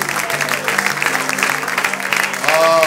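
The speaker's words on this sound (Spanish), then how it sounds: "aplauso a él, hermano." Church congregation clapping for a fellow member during a Friday evening worship service, steady close applause filling the room with voices mixed in beneath it.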